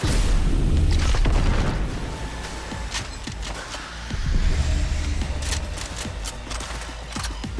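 A rocket launcher blast in the video game Cyberpunk, a loud booming explosion that opens the clip and rumbles on with a second heavy burst midway, mixed with scattered crackling debris and game noise.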